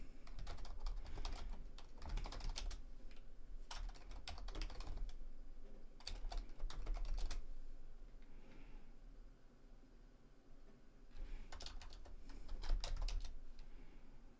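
Rapid bursts of keystrokes on a computer keyboard as an Ubuntu update and upgrade command is typed into a terminal, with quiet pauses between the flurries and no talking.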